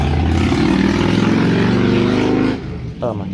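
A Harley-Davidson motorcycle rumbles by, a loud, steady low-pitched engine drone that dominates for about two and a half seconds, then drops away as it passes, with a voice starting at the end.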